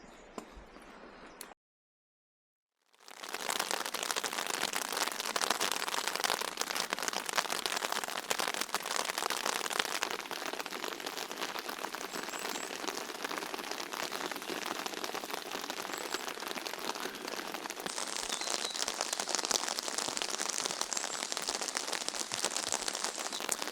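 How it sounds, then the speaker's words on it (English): Rain falling steadily on a wet morning in Wales, a dense hiss of drops on surfaces with a brief silent gap near the start, then continuous and close for the rest. "It's another rainy morning in Wales."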